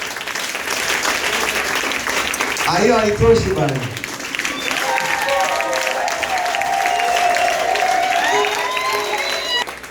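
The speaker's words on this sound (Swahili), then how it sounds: "Hebu upige makofi." A congregation at a church service claps and cheers while a voice speaks over it, the applause swelling and continuing alongside the talk.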